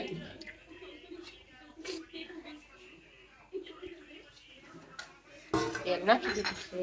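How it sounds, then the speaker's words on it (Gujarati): Garlic is pounded for pav bhaji: after a stretch of soft voices and light kitchen clinks, a burst of rapid, loud, clattering metallic strikes sounds close by. "તેલ નાખ્યા પછી લસણ ખાંડવાનું કામકાજ ચાલુ છે"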